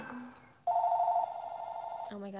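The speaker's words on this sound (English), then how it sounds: "Oh my god, that scared me. That's our phone." A telephone in the Animal Crossing video game rings with bright electronic tones, held briefly before shifting to a lower pitch, fairly quiet.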